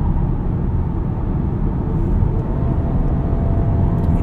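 Steady engine drone from inside a moving 2018 Buick Regal Sportback GS, the revs shifting slightly as the automatic transmission downshifts; no speech.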